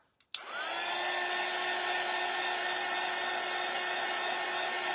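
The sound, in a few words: hair dryer drying a craft door hanger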